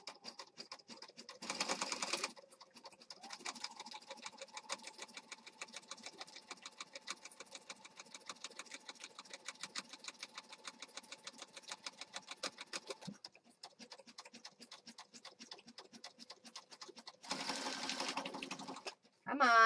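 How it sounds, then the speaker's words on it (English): A sewing machine stitches a zigzag pattern across cheesecloth, running in a fast, even mechanical clatter for about ten seconds between short bursts of rustling fabric handling, fairly quiet and close. "we're going to do a zigzag stitch right inside here."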